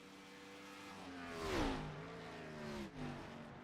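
Race car engine from an iRacing sim car at Montreal, revving up and down through gear changes as it passes close by, rising to a loud peak near the middle before easing off.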